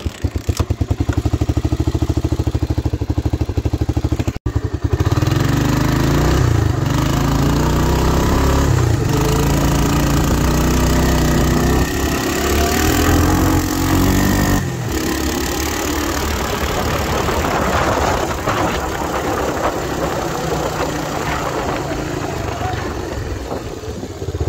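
An old farm vehicle, a trusty workhorse, runs steadily and loud for the whole stretch with a rough, rumbling engine note and a brief dropout early on, no talk over it.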